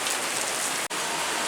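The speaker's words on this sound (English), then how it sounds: "it starts pouring rain" Heavy rain pours down outside a grocery store in Siesta Key, Florida, a dense, steady hiss of drops drumming on surfaces, loud and continuous with a brief dip partway through.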